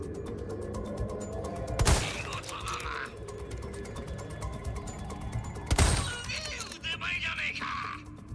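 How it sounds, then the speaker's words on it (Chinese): Two heavy sniper rifle shots ring out in Resident Evil 4 Remake, several seconds apart, each a sharp loud crack followed by a ringing tail over a steady game backdrop. "第二阶段主要就是透过狙击枪的穿透力来一次击破两个目标"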